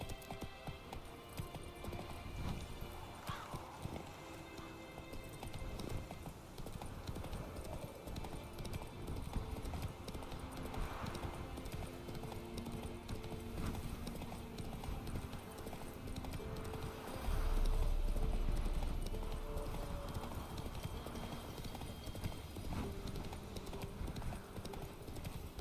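Roach, the horse in The Witcher 3: Wild Hunt, clip-clops at speed with hooves drumming in a steady, continuous rhythm over a dense game soundscape, a brief snort or whinny rising now and then.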